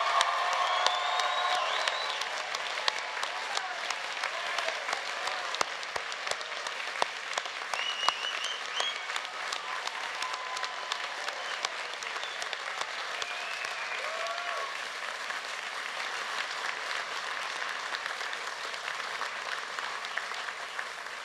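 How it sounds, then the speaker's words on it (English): Graduation ceremony audience in a large hall breaking into sustained, dense applause that stays steady and full for the whole stretch, with a few faint whoops mixed in and no talking over it. "Can you please join me in an enthusiastic and much more thunderous applause than you just did?"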